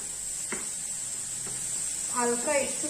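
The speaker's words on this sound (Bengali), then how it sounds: "হালকা একটু ফ্রাই হচ্ছে।" Food frying lightly in a pan over a flame after a splash of water: a soft, steady sizzle runs throughout, with a voice heard briefly toward the end.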